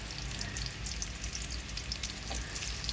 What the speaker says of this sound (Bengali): তেলও গরম হয়ে গেছে পেঁয়াজ দেওয়া হয়েছে